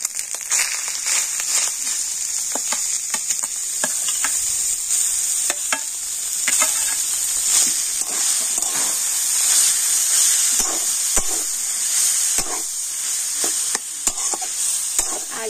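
Grated potato and cauliflower sizzling in hot oil with fried green chilli, under a steady hiss, while a spoon scrapes and stirs the pan with irregular clicks throughout.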